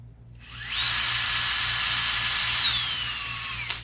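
A power drill spins up with a rising whine, holds a high steady pitch for a few seconds, then sags slightly as it slows.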